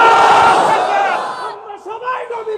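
A large crowd at a religious gathering roars the slogan Nara-e-Takbir in unison, a loud massed shout that fades into scattered voices and murmuring.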